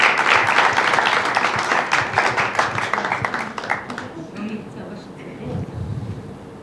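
A television singing-contest audience claps loudly and densely for a contestant, the ovation thinning out and fading after about four seconds into quieter scattered sounds.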